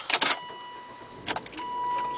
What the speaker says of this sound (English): Go ahead and get it started here.